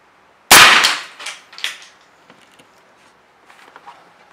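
A single sharp, loud report from an AirForce Texan air rifle charged to 3,000 PSI firing a 554 grain bullet, followed by a short ringing clatter and faint trailing clicks, with no talk.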